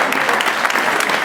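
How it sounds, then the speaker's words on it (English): An audience at a startup weekend event claps in a brief, dense burst of applause, close and steady throughout. "round of applause for all you guys."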